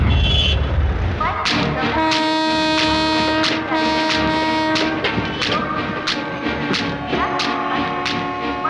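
The Cheran Express passenger train rumbles past at close range, with repeated clacking wheel beats and a sustained horn-like tone sounding over the steady roar.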